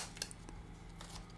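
Scissors snip around a pressed-flat piece of paper, making a few quick, quiet cuts and small rustles close by.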